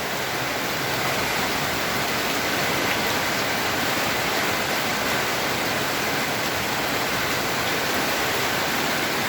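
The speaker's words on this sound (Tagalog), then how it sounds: "Napakalakas ng hangin at ulan oh." Dense, roaring wash of heavy rain with a constant hiss, loud and unbroken throughout, like a downpour driven by wind.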